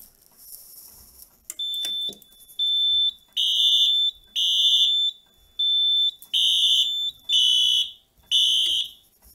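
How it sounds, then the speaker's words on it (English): Fire alarm horn-strobes on a Simplex 4010 panel test, Wheelock units, sound in a run of loud, regular piercing pulses that start after a short pre-action delay, preceded by a faint beep. "So notice how long it takes after the panel goes into alarm."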